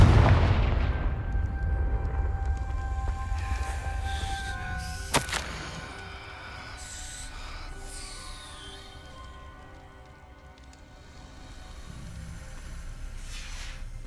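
A Confringo blasting spell goes off in Hogwarts Legacy, a deep booming explosion right at the start that rumbles and fades, followed by a sharp crack a few seconds later and a lingering low tail.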